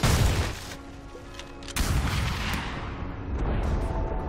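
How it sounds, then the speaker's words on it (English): Heavy booms and crashing impacts as Dire's top tower is destroyed in Dota 2, a loud burst at the start and a second surge partway through that rumbles on to the end. "Dire's top tower has fallen."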